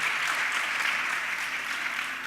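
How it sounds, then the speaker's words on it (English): An audience applauds the judges at a creative competition in Beirut, a steady, moderately distant round of clapping sustained throughout. "A big round of applause for"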